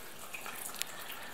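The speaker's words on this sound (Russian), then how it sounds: "В общем, заливаем, льем." Water pours steadily into a cooking pot for noodles in a village kitchen, a faint, continuous splashing stream with a brief brighter splash near the end.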